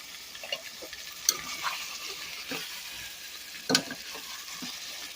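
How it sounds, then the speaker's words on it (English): Worcestershire sauce splashes into a hot pan of homemade beef stew and sizzles steadily, with a couple of sharp spits and crackles over the frying hiss. "So I'm just going to add some Worcestershire sauce to the pan here"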